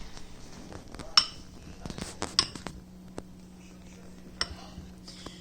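A spoon clinks and scrapes in a bowl while mixing a thick cornstarch mixture, sparse irregular taps and knocks, close but fairly quiet, with a low steady hum underneath.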